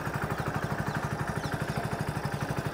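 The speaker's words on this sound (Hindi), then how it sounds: "अब आप इस बाइक के इंजन का साउंड सुनिए और इसका एग्जॉस्ट नोट भी सुनिए।" A 2023 Hero HF Deluxe commuter motorcycle idles with its exhaust note, a quiet, steady, evenly pulsing low putter that stays unchanged throughout with no talking.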